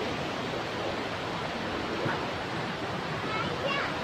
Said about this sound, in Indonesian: Inilah air terjun, suasana